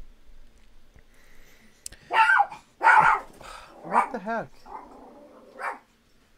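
A dog right beside the microphone lets out several loud, sharp barks and yips in a short burst, very close and dominant, with a brief spoken exclamation from a person nearby.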